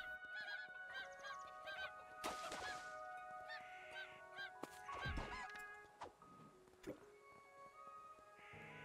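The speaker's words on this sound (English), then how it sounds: "Chicken!" A chicken in the video game Craftopia gives several sharp squawking, honk-like calls. They sit close among layered game music and sound effects, with a few thuds and a bright chime near the end.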